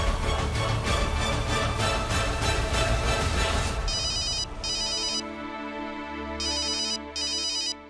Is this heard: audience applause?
no